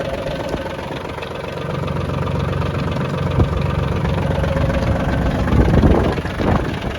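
An Iseki TA 235 tractor engine runs steadily nearby, a continuous loud mechanical drone with a slight rise in intensity partway through and a few clanks late on.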